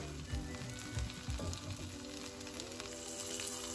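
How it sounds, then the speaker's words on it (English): Bread soaked for French toast frying in a little oil on a pan, a soft continuous sizzle with a few low bumps and shifts, faint and close. "just put your bread on the pan and don't move it around too much"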